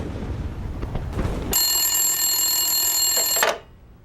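A telephone rings in a wartime command post during an urgent call to an army commander, a steady electric bell tone that starts abruptly and cuts off after about two seconds, preceded by a dull rumbling background.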